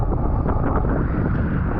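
Steady wind buffeting the microphone over a constant rush of sea waves at Akbük, Muğla, loud and unbroken throughout, with no voices.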